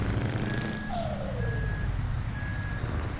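A truck reversing up to a loading ramp in Euro Truck Simulator 2, with three evenly spaced reversing beeps over a steady engine rumble and a brief air brake hiss.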